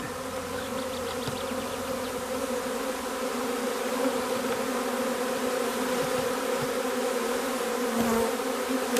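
A swarm of honeybees circles a hive, making a dense, steady drone that fills the air close by and holds unbroken throughout.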